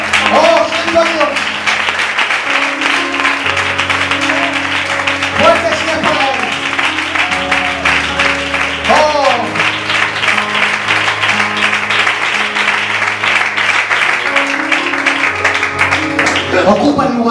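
A church congregation breaks into sustained applause and clapping, loud and continuous, with voices and singing mixed in over the clapping throughout.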